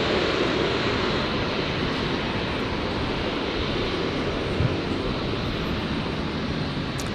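A Boeing Dreamliner jet at Brisbane airport gives a loud, steady broadband roar that holds level throughout, close and unbroken, with no voices.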